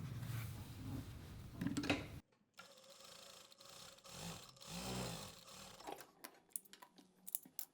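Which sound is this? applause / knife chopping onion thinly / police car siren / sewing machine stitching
sewing machine stitching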